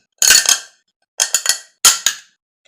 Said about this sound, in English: I'm going to carve out the little hole.